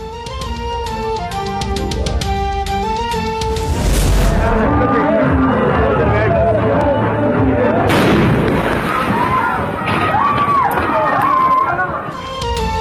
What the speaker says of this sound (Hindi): हारून बिलोर की आमद पर आतिशबाजी का शानदार मुजाहरा भी किया गया था